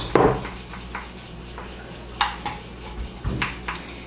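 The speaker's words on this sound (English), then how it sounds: "And I'll only cut half the pan, not to waste your time." A knife cuts through a pan of brownies, sounding as a series of sharp metallic taps and scrapes against the baking pan, with one louder clank at the start and quieter knocks after, close and fairly faint.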